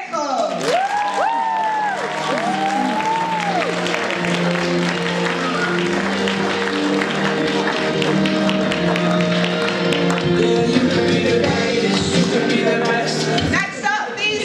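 Sustained audience applause at a certificate ceremony for a youth speaking challenge, dense steady clapping with cheers and whoops from the crowd filling the room, some voices calling out amid it.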